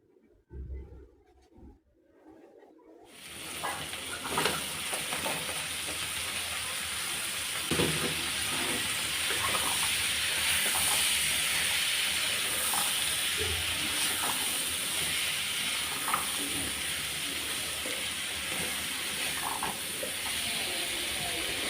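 Vegetables seasoned with turmeric and salt fry in a pan, a steady loud sizzle and hiss that starts abruptly after a few quiet seconds, with occasional faint clinks.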